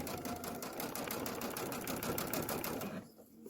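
A sewing machine runs a steady forward stitch across a chambray tote blank, a fast even mechanical chatter close by that holds for about three seconds and then stops, with no talking.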